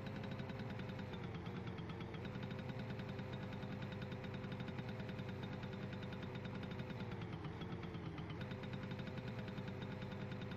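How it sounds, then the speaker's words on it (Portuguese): Motorcycle engine in the driving game MSC, a steady droning hum that holds one pitch with slight dips, continuous and fairly quiet, with no talking. "Mudaram o som da moto, tá diferente também."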